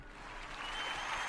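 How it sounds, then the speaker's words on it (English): Applause sound effect triggered from a button, a short, soft burst of crowd clapping that builds in intensity over its brief length. "there's an applause button that I hit"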